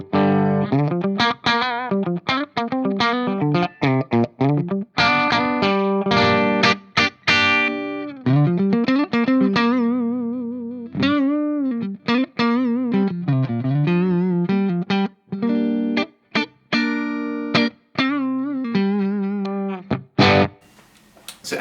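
An electric guitar with an SCR LJ1 bridge pickup, played through an Orange Dark Terror amp with some distortion and effects, rings out in melodic phrases and bends, with short pauses between runs.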